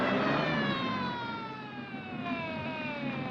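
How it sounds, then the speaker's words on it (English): An ambulance siren wails steadily with long sliding tones, fairly loud and continuous, alone without voices. "All right, Mr. Reese, I see the ambulance is coming."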